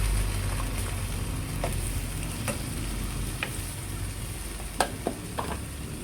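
Bagoong dropped into a hot pan keeps up a steady sizzle while a spoon scrapes and stirs it, with a few sharp clinks of utensil against the pan over the frying.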